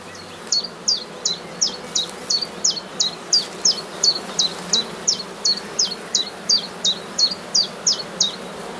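Honeybees at an open hive colony during a super inspection, giving a fast, regular series of buzzing pulses close by over a quiet background, with no talk.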